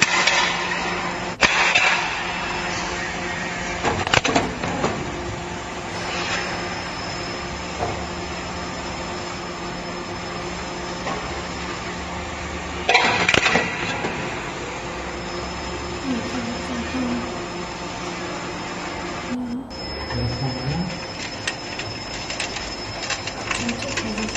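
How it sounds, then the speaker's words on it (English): A roller shutter door roll forming machine works at its hydraulic cutting section, giving a rumbling mechanical drone with repeated metallic clanks and hisses, plus a sharp burst around the middle. "This is the hydraulic cut part."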